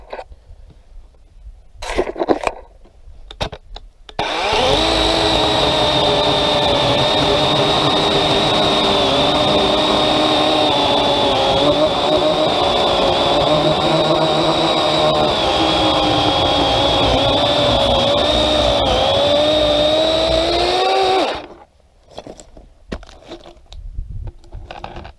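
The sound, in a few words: DeWalt 20v 12 inch cordless chainsaw cutting wood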